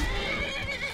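A wild horse in Skyrim gives a short, close neigh, a brief whinny lasting about a second.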